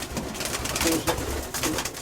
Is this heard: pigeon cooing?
yes